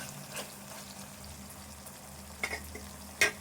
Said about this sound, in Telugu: టమాటా అంతా ఇట్లా మగ్గాలి. మగ్గితే ఇట్లా దగ్గర ఉడకాలి.